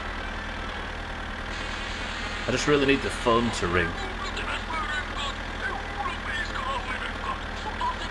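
A car engine idles in the video game My Summer Car, a steady low drone running the whole time beneath someone talking.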